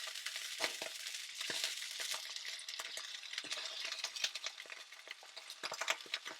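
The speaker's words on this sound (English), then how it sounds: "with sizzling oil, we're just going to pop in the livers and really just cook them till they're kind of just done" Duck livers drop into sizzling oil and fry, giving a steady close crackling sizzle broken by sharp clicks and scrapes of stirring; no one speaks.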